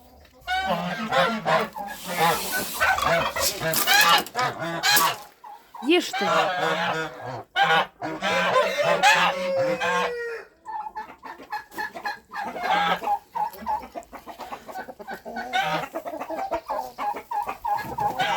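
Farmyard turkeys squeal and call loudly in repeated bursts close by, with chickens clucking among them and someone speaking briefly over the birds.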